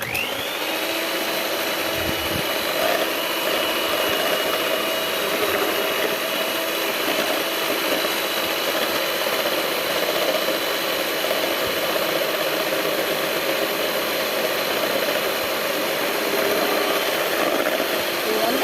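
An electric beater whips four cracked eggs for a banana cake, making a steady, loud motor whine that starts up in the first second and runs without a break throughout.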